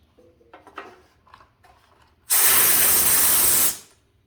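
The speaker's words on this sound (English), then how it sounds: "I'm gonna put compressed air in it at the same time." A loud, steady burst of compressed air blasts for about a second and a half into the seat area of a 1970s 4HP Tecumseh engine on a Moto Mower snowthrower, following faint rustling and handling noises.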